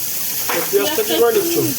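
Chopped onions fry in hot oil for a tilapia fish chop, giving a soft, steady sizzle that runs under a person speaking nearby.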